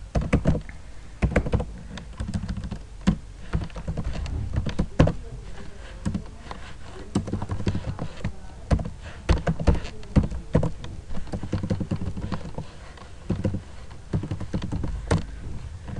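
Rapid typing on a computer keyboard while entering a web address, irregular clusters of close, crisp key clicks and thunks with short pauses, no talking.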